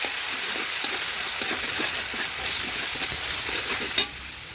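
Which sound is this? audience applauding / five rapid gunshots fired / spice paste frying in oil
spice paste frying in oil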